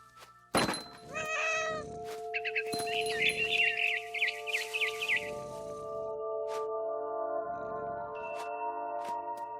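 Meows from a cat in the video game What Remains of Edith Finch, several short cries near and clear, mixed with a frightened bird's chirping, a thunk and a soft sustained game music drone underneath.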